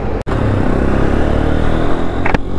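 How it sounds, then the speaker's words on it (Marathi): Honda CB 200X motorcycle engine running steadily while being ridden, a continuous close, loud drone with a brief cut near the start and a short sharper burst toward the end. "आता आपण चालूया होंडाची CB 200X"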